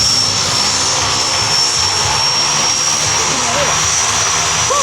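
A propeller plane carrying parachutists starts its take-off at an air show in Azelot. Its engine makes a loud, continuous drone throughout, with people talking nearby.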